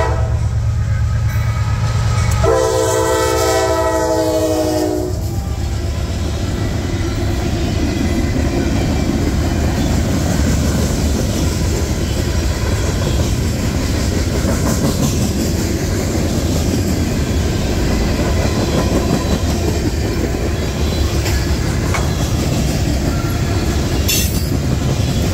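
A Norfolk Southern freight train led by rebuilt AC44 locomotive NS4227 rolls past with a continuous loud rumble and wheel noise, and a short horn blast sounds early before the cars keep grinding by up close.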